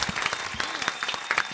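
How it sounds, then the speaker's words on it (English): A small group in a radio studio claps in a short, lively burst. The clapping is close, steady and dense, and a bit of talk mixes in. "Mick Jenkins, give that man a round of applause"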